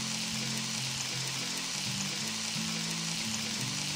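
Vegetables for Kerala aviyal, including elephant yam, raw plantain and carrot, sizzle steadily as they fry in a pan and get stirred now and then, a continuous close frying hiss with no talk.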